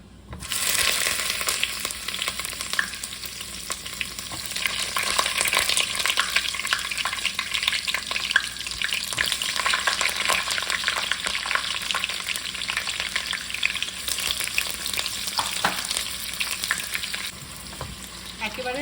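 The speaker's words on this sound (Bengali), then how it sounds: "তেল মোটামুটি গরম হয়ে গেছে পেঁয়াজটা এবার দিয়ে দিচ্ছি" Sliced onion frying in moderately hot oil, a loud, steady sizzle that crackles and spits continuously for the whole stretch with occasional stirring, close up and without talk.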